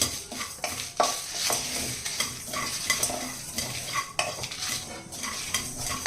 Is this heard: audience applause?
no